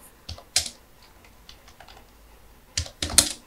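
Python code being typed on a computer keyboard: a few scattered keystrokes, then a short, brisk burst of clicks near the end, close and fairly quiet.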